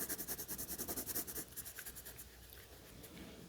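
Pencil shading on paper while drawing a potato, the sharp pencil turned as it goes with light pressure: quick rhythmic back-and-forth scratchy strokes, close and steady, then slower, softer strokes trailing off.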